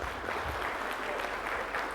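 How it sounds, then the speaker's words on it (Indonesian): An audience claps together at a Ramadan gathering in Madiun, a dense, steady patter of many hands that stays even and fairly loud throughout the short burst. "Mari tepuk tangan buat kita semuanya."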